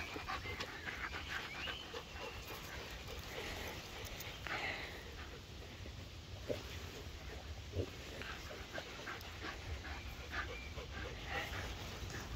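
A small Shiba Inu pants steadily at close range for about twelve seconds, with a few soft whimpers mixed into the continuous breathy rhythm.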